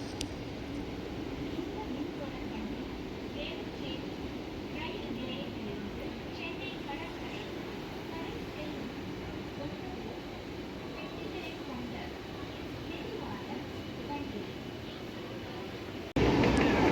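A Chennai MRTS suburban train runs from Velachery toward Beach, its steady rumble and rail noise filling the whole stretch from inside the carriage, with a sudden louder surge near the end.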